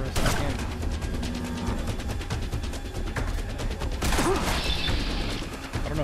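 Irregular gunshots and machine-gun bursts echo through combat in the Fallout London game, mixed with mechanical clatter and crashes at moderate loudness.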